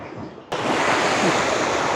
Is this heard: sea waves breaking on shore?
yes